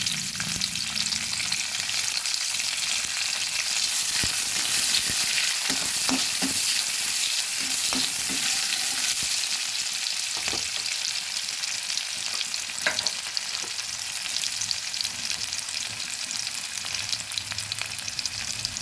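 Chopped onion frying in a little oil for a katla fish curry, a dense, steady sizzle close up with occasional scrapes and clicks of stirring.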